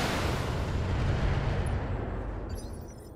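Weapons fire in the BattleTech video game, a heavy booming, rumbling barrage that fills the moment at high volume and then gradually fades, with no voices over it.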